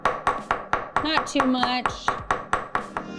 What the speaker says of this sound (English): So I'm gonna flip my hammer over and we're gonna use the pin end.